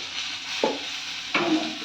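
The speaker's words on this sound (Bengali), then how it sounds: "এখানে মাছ ভাজছে মা" Fish frying in a pan in a home kitchen, a soft continuous sizzle with two brief louder bursts as the pieces are stirred or moved, fairly close and without talk.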